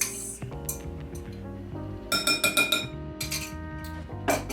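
Muffin batter for banana nut muffins is stirred in a bowl, with quick clinking taps of a utensil against the bowl in short clustered bursts over soft background music.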